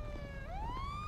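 A steady electronic police siren in GTA wails, its pitch sliding upward midway, heard clearly with no talking.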